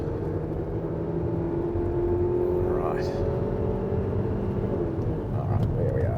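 A 2023 Haval H6 GT in race mode pulls hard under acceleration, its engine note rising steadily and dipping at a gear change, with a steady interior drone and someone talking over it.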